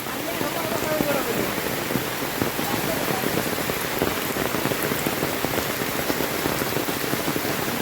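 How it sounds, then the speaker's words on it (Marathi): Heavy first monsoon rain pours steadily onto surfaces, a dense, loud hiss of drops that never lets up, with faint voices underneath. "कसलो पाऊस पडता बघा"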